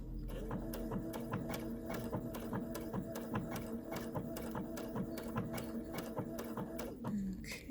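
A sewing machine stitches applique around a heart shape on an owl pin cushion, running at a moderate speed with a steady, rhythmic mechanical clatter that stays fairly quiet and unbroken throughout.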